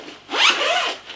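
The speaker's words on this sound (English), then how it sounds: "Okay, so then you take the zip," A zipper on an Etchr Slate art satchel is pulled open in one quick, close, rising zip lasting about a second, with no talking.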